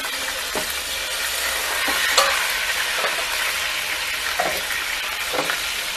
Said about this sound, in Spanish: Tenemos dorando los medios tomate, el jitomate y la cebolla.